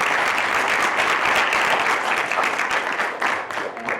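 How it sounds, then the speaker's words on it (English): Audience applause at an awards summit, a dense burst of many hands clapping that holds steady, then thins slightly toward the end. "why don't we give them all a round of applause"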